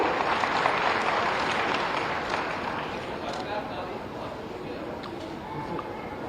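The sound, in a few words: audience applause at award ceremony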